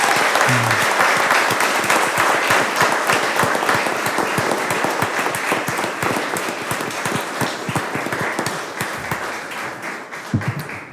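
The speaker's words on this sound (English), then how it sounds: "If we could all give him a big round of applause as well." A board of education meeting audience gives a big round of applause, steady dense clapping that lasts about eleven seconds and thins slightly toward the end.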